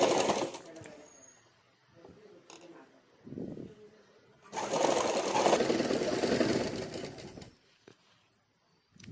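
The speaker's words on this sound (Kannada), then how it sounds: "ಇವಾಗ ನಾವು ರೆಡಿ ಮಾಡ್ಕೊಂಡಿರೋ ಟ್ಯಾಗ್ನ ತಗೊಂಡು ಈ ಸೆಂಟರ್ಗೆ ಕರೆಕ್ಟಾಗಿ ಇಟ್ಟು ಒಂದು ಸೈಡು ಸ್ಟಿಚ್ ಮಾಡ್ಕೊಳ್ಳಿ" A sewing machine stitches one side of a blouse tassel in short close bursts of rapid needle clatter, with pauses between runs and a longer loud run in the middle, with a voice faintly in the background.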